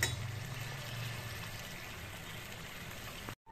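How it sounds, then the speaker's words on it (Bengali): Fish curry gravy made with katla fish, potato and cauliflower bubbling in a pot, a steady soft simmering hiss with faint low bubbling, close and quiet, cutting off abruptly at the end; no talking. "ঝোলটা ফুটে যাবে"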